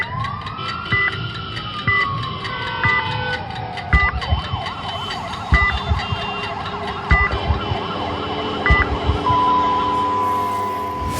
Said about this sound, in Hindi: अगर कोई सायरन की आवाज़ इस तरह की सुनाई देती हो तो लेफ्ट लेना जरूर शुरू करें